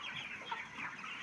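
Broiler chickens cluck in a crowded poultry shed, a dense overlapping chorus of many birds at moderate distance, steady throughout the short stretch with no talk.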